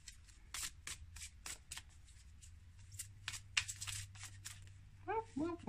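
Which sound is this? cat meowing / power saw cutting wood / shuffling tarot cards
shuffling tarot cards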